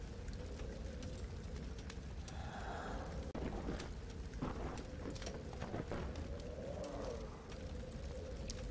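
Steady rain falls in Amnesia: The Dark Descent, a constant hiss with soft low rumbles of thunder underneath, moderately loud and unbroken, with no talking.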